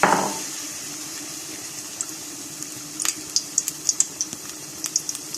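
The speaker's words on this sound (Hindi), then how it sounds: "अब हम इसको ऐसे फ्राई के लिए छोड़ देंगे।" Aloo samosas left frying in moderately hot oil, giving a soft steady sizzle with scattered small pops and bubbling crackles that grow more frequent toward the end.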